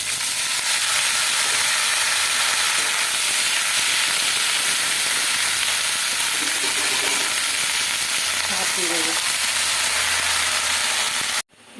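Chopped vegetables sizzle and hiss loudly in hot oil tempered with nigella seeds and green chili, a steady, close frying roar lasting throughout, with faint stirring clinks.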